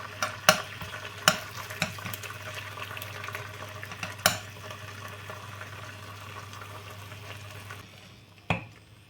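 Stuffed egg with mackerel frying in oil in a pan: a steady sizzle runs throughout, broken by several sharp utensil clicks and scrapes, with no talking.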